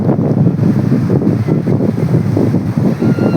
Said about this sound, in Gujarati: જો ભાઈ દરિયો છે